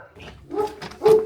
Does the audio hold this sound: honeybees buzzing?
no